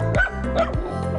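A dog at an animal shelter gives two or three close, loud barks in quick succession, with yipping, whimper-like tones.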